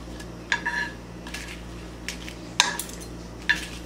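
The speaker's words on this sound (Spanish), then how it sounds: "pondré a tostar un chile guajillo y 5 chiles de árbol y los pondré a fuego" Guajillo and árbol chiles toasting in a pan over low heat, heard as a few scattered light clinks and scrapes against quiet kitchen background, with no voices.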